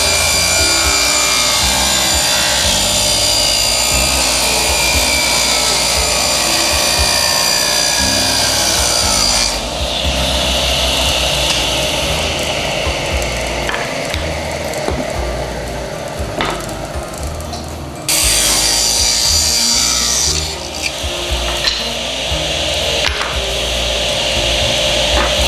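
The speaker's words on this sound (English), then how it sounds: "You draw the line and you cut the damn board" A wooden board is sawn to form angled sides for a subwoofer box, with loud continuous rasping strokes running nearly the whole time and a brief dip before the cutting resumes.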